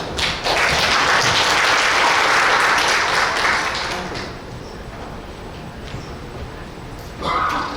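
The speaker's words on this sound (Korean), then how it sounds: "특강을 해주실 석 박사님을 큰 박수로 모시도록 하겠습니다." An indoor audience at a business cluster exchange meeting in Seongnam claps loudly to welcome a guest lecturer. The dense applause holds steady for about four seconds, then thins and fades to a lower murmur.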